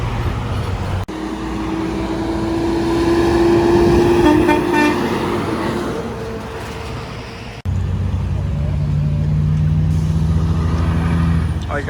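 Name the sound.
truck sounding train horns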